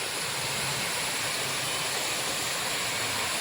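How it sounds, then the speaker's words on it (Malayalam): A steady, full roar of rushing water, loud and unbroken throughout, from a monsoon-season waterfall heard from close by. "ആ വെള്ളച്ചാട്ടം"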